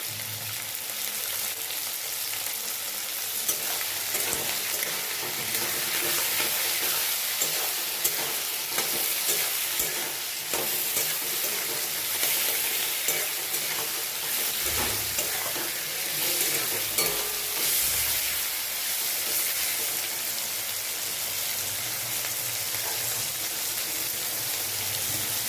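Veg manchurian frying in a pan, with a continuous bright sizzle and irregular stirring scrapes running throughout, close up and with no talking.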